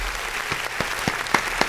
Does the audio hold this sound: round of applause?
yes